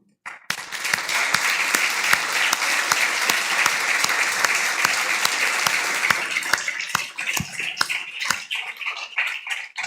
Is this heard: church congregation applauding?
yes